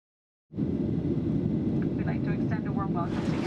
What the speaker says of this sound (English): So I've just arrived at the airport in Toronto